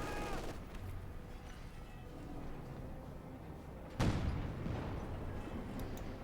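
Anti-tank gun fire in the strategy video game Company of Heroes 2, a single sharp heavy blast cracking out about two-thirds through over a steady bed of battlefield noise and distant gunfire.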